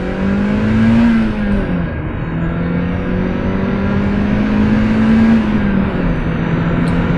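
A Mazda MX5 with a 1.8 engine accelerates hard along a quiet country road, its engine droning loud and close with pitch climbing, dipping at a gear change, then rising again.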